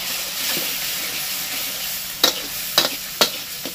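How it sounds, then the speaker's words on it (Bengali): Spice paste with cumin powder and chili frying in a pan, a steady close sizzle followed by three or four sharp spatula scrapes near the end, no voices. "একটু ভালো করে কষিয়ে নেব।"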